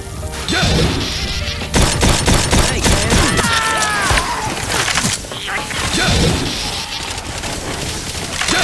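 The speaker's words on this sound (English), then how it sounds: "Quit shooting him, Nick!" Rapid gunfire in the video game Left 4 Dead 2, loud dense bursts of shots crackling almost continuously, mixed with other game noise.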